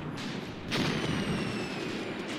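A deep, rumbling artillery boom in the war game Graviteam Tactics: Mius Front swells over steady roaring background noise, heavy and sustained rather than sharp, with no voices.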